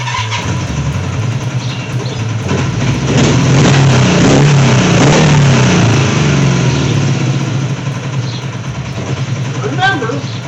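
A Kawasaki 440 LTD motorcycle engine runs on choke with a steady, loud low rumble that swells slightly mid-way, while a person talks over it nearby.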